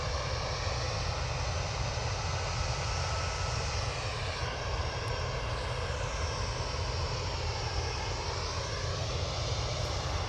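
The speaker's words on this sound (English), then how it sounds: "we've got an A320 off to Belfast" An Airbus A320 departing Manchester Airport for Belfast, its jet engines roaring loud and steady throughout, with a slowly shifting whine as the airliner climbs away.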